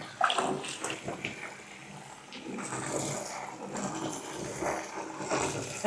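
Water splashes and sloshes in a bathtub as an antique Persian rug is washed, with uneven close splashing, gurgles and occasional knocks continuing throughout, and no speech.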